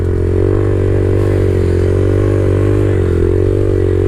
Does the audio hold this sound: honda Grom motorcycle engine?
yes